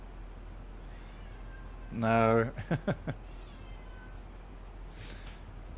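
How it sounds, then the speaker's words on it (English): A pet cat meows loudly nearby, one drawn-out yowl followed by three short chirping meows, with a person speaking briefly in the room. "If you hear someone meowing, it's our cat."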